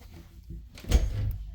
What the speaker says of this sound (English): Got full extension drawers there.